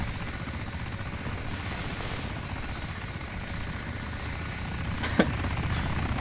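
Steady helicopter rotor and engine drone in the survival game DayZ, a continuous loud whir filling the whole stretch, with a brief sharp click or crack near the end.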